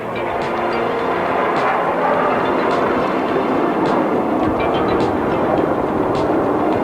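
A solo jet peeling away from a formation at the 1986 NAS Moffett air show: a loud, continuous broadband jet roar, steady and close, with sharp crackles scattered through it.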